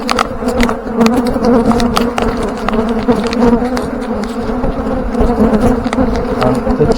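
Honey bees buzz loud and close in a Demaree-split hive as the brood nest is broken apart, a dense agitated drone with individual bees zipping past the microphone.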